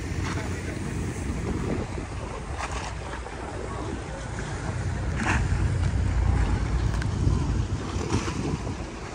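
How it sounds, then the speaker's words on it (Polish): Strong wind blows over rough sea on the Croatian coast, a constant loud rushing roar with gusting buffets against the microphone and faint wave wash beneath. "Wiatr wieje."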